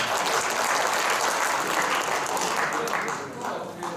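Trainees at a sports taping workshop for archery instructors give a dense, steady round of applause that fills the room and tapers slightly near the end.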